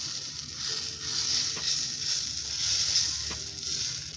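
A besan paneer paratha fries in a hot pan, giving a steady, soft sizzle throughout with a couple of faint clicks as it is pressed down; no voices.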